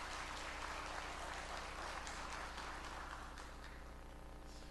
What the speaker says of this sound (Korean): 찬양대원들 한번 박수로 격려해 주시겠습니다